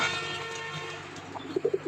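A pair of Giribaz pigeons coo softly at close range, a few short low burbling notes near the end over a faint steady hum.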